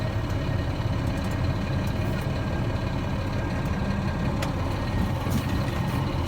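A tractor truck's engine rumbles low and steady as it creeps forward slowly during a pre-trip brake check, heard close with a constant idle-like drone and faint clinks on top.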